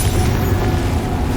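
A Confringo fire spell blast in the Hogwarts Legacy video game, a loud, heavy rumbling boom sustained for a moment with dense low-end roar and no voices.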